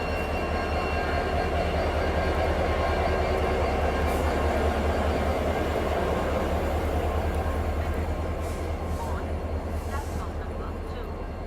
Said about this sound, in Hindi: पूरा डीजल का साउंड आपको पूरी जर्नी में बढ़िया से दिखाते हुए ले चलेंगे।